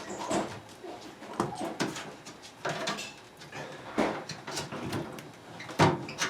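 Front-loading LG or Kenmore washing machine door being pulled loose and lifted off during a repair, heard as a series of close, sharp plastic and metal knocks and clunks spread across several seconds.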